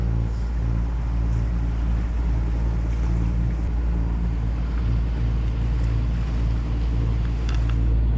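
Sailboat under way off St Lucia toward Martinique with the mainsail up, a steady loud wash of water and wind rumble against the hull and microphone throughout, without any talk.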